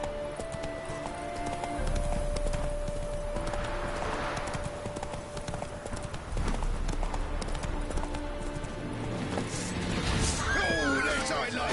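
Roach, the horse in The Witcher 3, gallops with rapid, rhythmic hoofbeats that run throughout, joined by game effects and a voice speaking over the action near the end.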